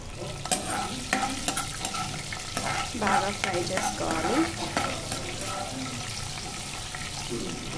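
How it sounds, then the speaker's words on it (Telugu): A tempering of chana dal, mustard seeds, urad dal and cumin fries in oil, with repeated spoon scrapes and crackling pops over a busy sizzle, close and lively, strongest in the middle. "ఇప్పుడు పోపు కోసం పచ్చిశనగపప్పు, ఆవాలు, మినప్పప్పు, ఇంకా జీలకర్ర వేసి బాగా ఫ్రై చేసుకోవాలి"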